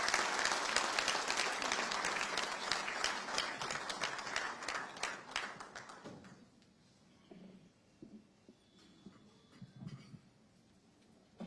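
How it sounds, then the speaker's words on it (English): An audience at a FICCI National Executive Committee meeting in Ahmedabad applauds the Chief Minister with dense clapping that tapers off after about six seconds, leaving a quiet room with faint scattered noises. "A round of applause."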